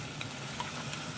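Spice paste of onion, green chilli, ground cumin and coriander frying in a pan, a faint steady sizzle with no voices.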